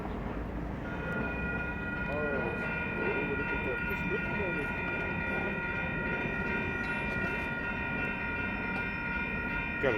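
A train approaches along the tracks outdoors with a steady, sustained horn over the low rumble of the rail cars, moderately loud and growing, with faint voices nearby.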